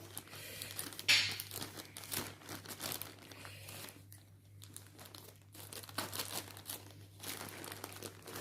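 Kitchen scissors cut and tear open a crinkly AliExpress mailer holding cross-stitch supplies, with repeated close crumpling and rustling of plastic packaging throughout and no talking.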